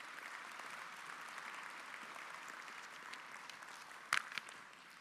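Steady, even applause from a large audience at the Kangan Institute Class of 2013 graduation ceremony, a continuous wash of clapping heard at a distance with a brief sharp knock near the end.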